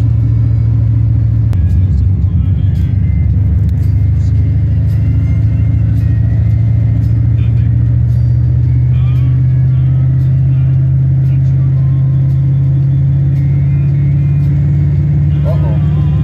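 Ford Triton 5.4 V8 pickup engine droning steadily under throttle while towing a trailer, a loud continuous low rumble that holds and rises slightly, with a voice speaking over it.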